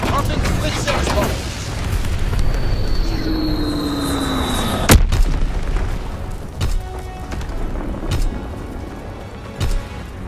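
In Call of Duty WWII multiplayer, a Quick-X bomb whistles down with falling pitch and detonates in a sharp, loud boom, followed by lingering rumble and scattered distant gunfire and thuds, with game voice lines in the background.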